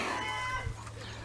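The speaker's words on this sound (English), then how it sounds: "Happy hens." A hen gives a soft, brief cluck close by, fairly quiet against a low background hum.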